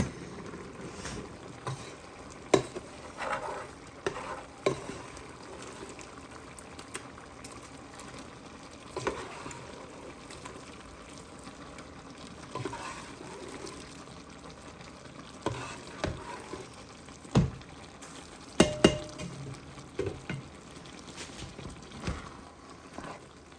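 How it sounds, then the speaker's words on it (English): Pasta being stirred into a thickening cream sauce in a pan for marry me chicken, with soft scraping stirs and a low simmering sizzle throughout, punctuated by occasional louder clinks of the utensil against the pan. "We're going to go ahead and add our pasta to it."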